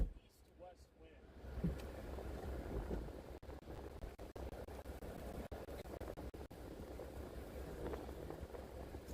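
Strong gusty wind roars outdoors during a storm, buffeting the microphone with steady low rumbling and rustling for several seconds, with faint voices underneath.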